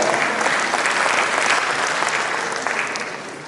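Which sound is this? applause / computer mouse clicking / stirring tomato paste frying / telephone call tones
applause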